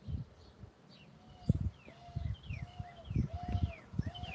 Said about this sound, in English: we've got spring here in West Texas. We've got birds.